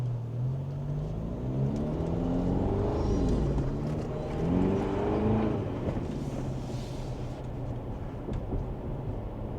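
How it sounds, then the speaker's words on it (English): A 2025 Toyota 4Runner fitted with an AFE catback exhaust drives along, its exhaust note rising and falling in wavering tones over steady road rumble, heard from inside with no talking. "So this is AFE's catback exhaust."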